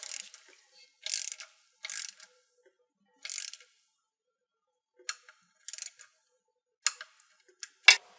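A wrench ratchets in short bursts of clicks while an oil drain plug is tightened during an oil change on a Command PRO engine. There are about eight separate spurts, close and crisp, with quiet gaps between them and no talking.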